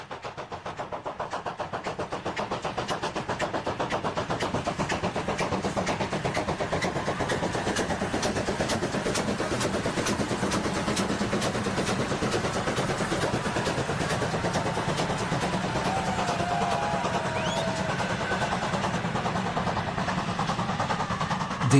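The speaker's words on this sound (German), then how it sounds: "Der markante Auspuffschlag ist typisch für die Baureihe 23, die zu den modernsten Dampfloks überhaupt zählt." German Bundesbahn class 23 steam locomotive 23042 runs between Kaiserslautern and Kusel. Its rapid, even exhaust beats hold loud and steady throughout, over a continuous rumble of the running train.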